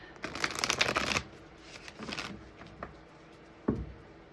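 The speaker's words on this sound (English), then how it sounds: "Give these one more shuffle." A deck of cards is riffled and shuffled close by, a fast fluttering burst, then softer shuffling and a final sharp tap.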